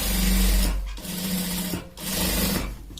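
A sewing machine stitches a seam on the seat of a pair of trousers, running a steady mechanical whirr in three bursts, each with a short pause between.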